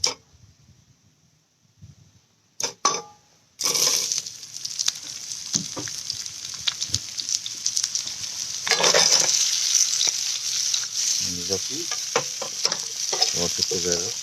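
Green mango sizzles loudly with spices in a hot pan, a steady frying hiss with occasional stirring scrapes that bursts in after a few quiet seconds and carries on unbroken.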